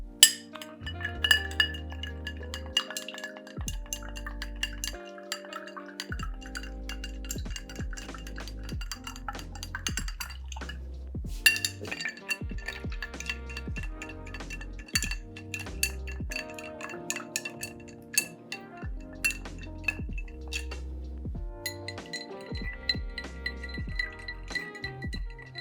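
Ice cubes clinking and rattling against a glass as cocktails are stirred, bright close ringing taps repeating through the stir with brief pauses between glasses, no voices.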